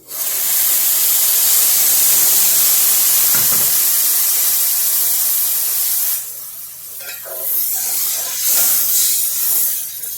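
Tomatoes go into a hot pan for a lubia base, sparking a loud, dense sizzle and hiss of steam that fades after several seconds into softer, intermittent frying crackles.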